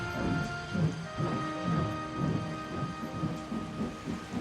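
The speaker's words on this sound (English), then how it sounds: "Rain poured from the sky like the Little Western hadn't seen for ages." Steady, fairly quiet rain hisses throughout, with low rumbling swells like distant thunder rolling underneath at irregular intervals.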